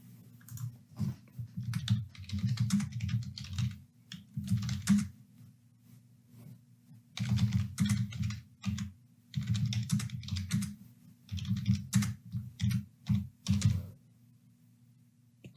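Typing on a computer keyboard, bursts of rapid key clicks separated by short pauses, close and fairly quiet with no talking.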